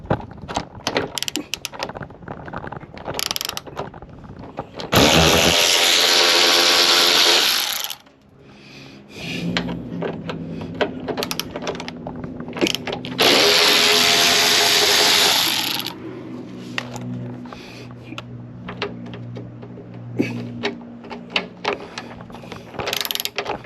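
A power tool backs T25 Torx screws out of the broken rear door latch on a 2008–2014 Ford E-Series van: two loud, sustained motor whines among close ratcheting and metallic clicks and clatter, with no speech.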